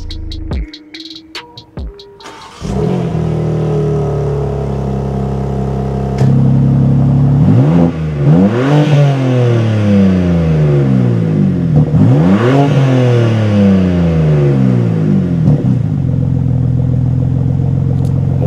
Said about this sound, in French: on va écouter la petite mélodie du 6 cylindres